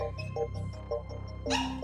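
An anxious stray dog whimpers and yips in short, high, plaintive bursts, alone and close, with a louder whine near the end.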